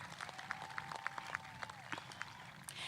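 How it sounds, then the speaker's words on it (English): At a high school graduation ceremony, quiet scattered applause greets the color guard. Distinct individual claps land in a loose rhythm over a low crowd murmur. "Let's give them a round of applause for their hard work and dedication."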